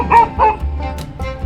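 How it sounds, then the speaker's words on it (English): A dog barks close by in a few short, sharp bow-wow yips, two quick barks followed by a softer one with small whimpering tones, brief and loud. "What are you barking at, Bodie?"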